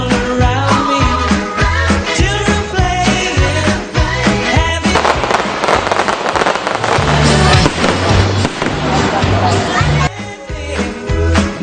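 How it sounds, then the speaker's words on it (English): Fireworks display at a Christmas zone event, with repeated loud bangs and crackles over music and crowd noise, dense and continuous throughout. "The Sirasa Christmas Zone also features Wanderers fireworks display."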